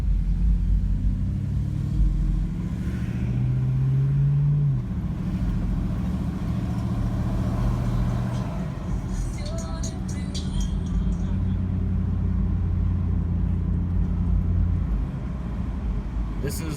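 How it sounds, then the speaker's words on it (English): Light street traffic near the Vernon and Western intersection: a low, steady rumble of car engines with a vehicle humming past, continuous and moderately loud. "very little bit of traffic"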